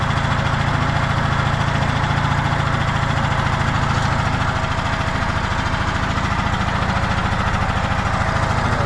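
A small engine settles into auto idle, giving a low, steady, even hum that holds unchanged and fairly quiet throughout, with no voices over it.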